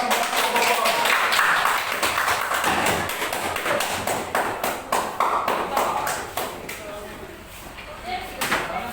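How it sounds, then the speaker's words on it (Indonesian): A small classroom group gives a round of scattered applause for a presenting group in an economics lesson, the claps quick and uneven with voices talking over them throughout. "tepuk tangan buat kelompok"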